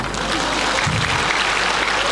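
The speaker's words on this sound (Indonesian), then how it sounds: "Tepuk tangan." Congregation applauding during a talk on married life, a dense, loud wash of clapping that fills the whole moment with a low hum beneath.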